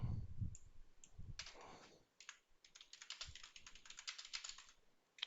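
Rapid, quiet clicking of a computer keyboard as someone types to fill in a property valuation form, keystrokes coming in quick irregular runs after a brief pause.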